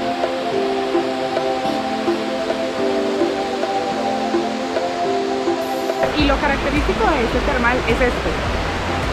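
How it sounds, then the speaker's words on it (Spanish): Steady, broad rushing of a large waterfall at the Santa Rosa de Cabal hot springs fills the clip, loud and close, with voices and music-like tones over it before splashing noise swells. "esa inmensa cascada que cae desde arriba y pasa por todo el establecimiento"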